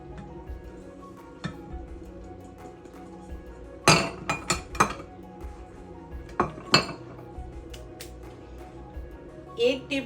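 Spices being tipped into a bowl while preparing peri peri chicken, with bright clinks of a spoon and dishes in short bursts over a quiet kitchen background, a few taps spaced apart.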